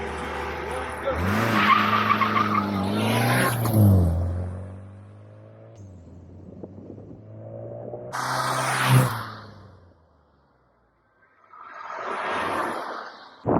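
An electric car and a Mini Cooper race down a road, engine drone and tire noise rising and falling in loud passes with a brief skid-like squeal, then a quiet gap before another vehicle sweeps by; a voice talks over parts.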